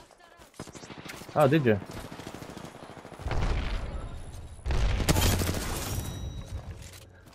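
Rapid gunfire in the shooter game Apex Legends, loud bursts of shots and a headshot in the middle and toward the end, with a player speaking briefly near the start.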